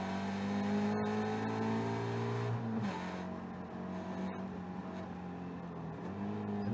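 Caterham race cars at Oulton Park, heard as a steady loud engine drone with shifting gear-change pitch and whirring, a car passing close by.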